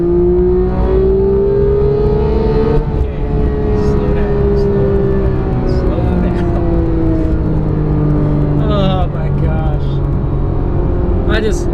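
A Porsche GT3 accelerating at full throttle, heard from inside the car: a loud engine note climbs steadily in pitch, drops at each upshift and climbs again, while a person talks over the roar.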